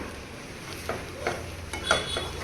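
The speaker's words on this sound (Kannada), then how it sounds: "ಸೊ ಫಸ್ಟ್ ನಾವು ಮೈದಾನ ಬಟರಲ್ಲಿ ಫ್ರೈ ಮಾಡ್ಕೊಳ್ಳೋಣ" Maida flour frying in butter in a pan, heard as a low sizzle under repeated light scraping and stirring strokes, close and fairly quiet, without talk.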